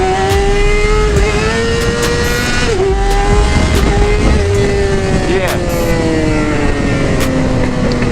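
A motorbike engine holds a high, steady rev under throttle during a wheelie, with small dips and surges in pitch, loud and close throughout.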